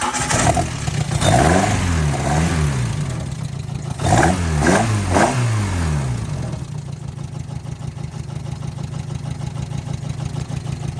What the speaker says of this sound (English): Now that is a noise you do not expect to come out of a Wartburg